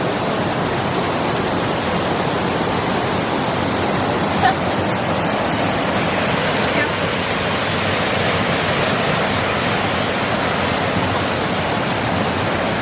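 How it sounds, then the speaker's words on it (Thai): A waterfall roars in a constant, broad rush of falling water, loud and unbroken throughout. "อันนี้คือแบบเหมือนน้ำตกแบบยาวๆเลยเนาะ"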